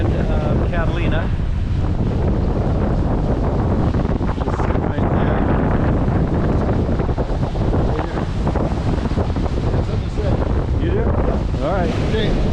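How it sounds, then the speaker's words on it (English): Wind buffets a sailboat heading upwind at sea off Catalina at 11 to 15 knots, a loud, constant roar and rumble against the microphone with water noise underneath and faint voices. "winds coming right at us at about 11 to 15 knots"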